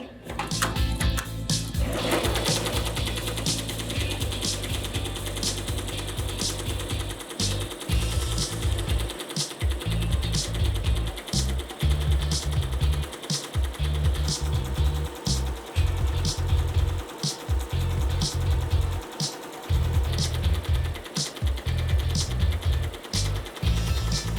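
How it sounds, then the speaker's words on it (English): An embroidery machine stitching a logo onto polo shirts, running with a fast, steady mechanical clatter of needle strokes and periodic pauses and thumps as it moves, close and continuous. "while my machine is embroidering my logo"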